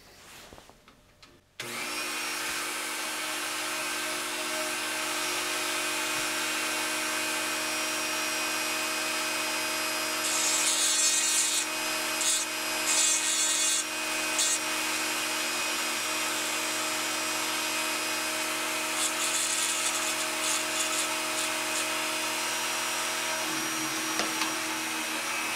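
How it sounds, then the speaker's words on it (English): A small Dremel rotary tool engraves a signature onto a bud vase, giving a steady high-pitched whine that runs almost continuously, with rougher grinding passages as the bit cuts the surface. "we'll use a little Dremel."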